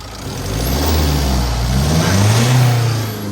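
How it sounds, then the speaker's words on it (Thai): A Tata vehicle engine being tested after repair revs up and down in a couple of swells, loud and close, with a rough mid-pitched roar and no voices. "เครื่องติดนิ่งนะ เบิ้ลดูมีเสียงไหม"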